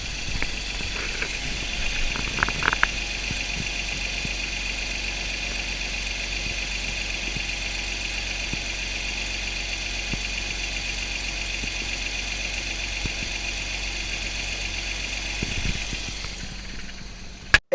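A 2009 Porsche Cayman engine idles with a steady, even hum and a faint ticking, holding constant for a long stretch before cutting off abruptly at the end, with a few light knocks early on.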